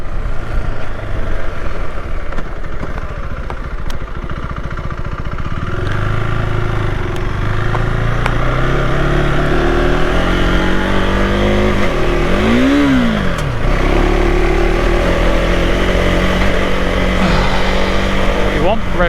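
A KTM 390 Adventure R single-cylinder motorcycle engine revs loudly and continuously, climbing and dropping through gears with a quick shifter, and bounces off the rev limiter in a sharp burst near the end.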